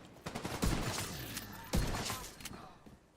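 Slingshot SMG fire in The Division 2 comes as two rapid, crackling bursts a second apart, with a busy, noisy game soundscape behind them.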